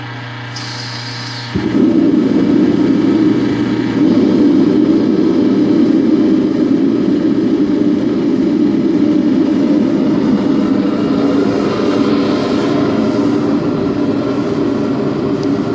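A torpedo heater starts up and runs, a click followed by a loud, steady roaring fan blowing continuously without pause.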